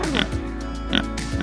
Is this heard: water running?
no